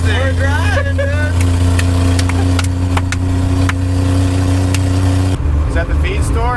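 A 1960 Ford F-350 truck on the road, its engine a loud steady low drone with a rattling cab, while people talk over it throughout.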